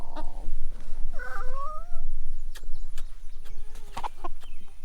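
A panicked backyard chicken being handled lets out loud, shrill, wavering squawks near the start and middle, then scattered shorter cries, close by with steady low background noise.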